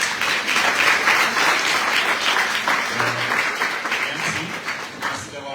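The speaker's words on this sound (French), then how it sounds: "Sous vos applaudissements" A loud, sustained ovation fills a hall at a team presentation for the Tour de Guadeloupe 2024 cycling race, dense clapping that thins slightly toward the end, with crowd voices mixed underneath.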